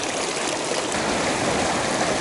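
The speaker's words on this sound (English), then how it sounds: "So this is the Glacier Creek." Glacier Creek, a mountain stream near Leadville, Colorado, rushes in a steady, dense wash of flowing water, close and continuous with no voices.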